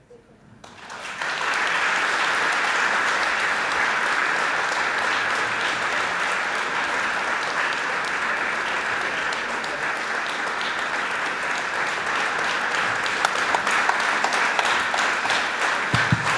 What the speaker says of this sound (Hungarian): ne tapsoljatok